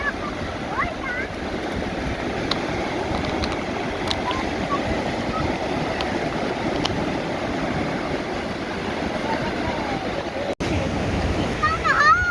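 Rough surf rolls steadily at a beach resort, a continuous loud wash of breaking waves filling the whole stretch, with faint voices of children and adults now and then beneath it.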